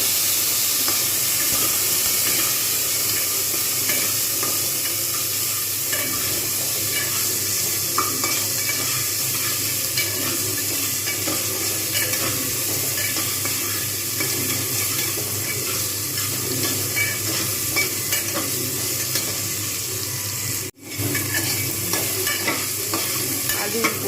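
Potatoes stirred and frying in a pan of fenugreek, dried chilli and cumin tempering for a vegetarian pea dal, a loud continuous sizzle and hiss with scraping stirs throughout, briefly cut off near the end.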